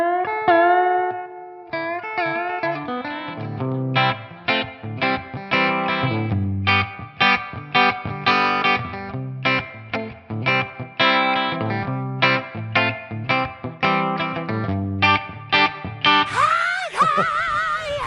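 Electric guitar through an IK Multimedia Tonex pedal on a Fender Clean capture with its own reverb, playing a lively picked melody with ringing clean notes and a spacious reverb tail, closing on a brief burst of noisy fizz.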